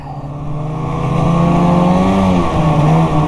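A car passes on a road beside an icy trail, its engine note swelling loud and close, then easing off as it goes by.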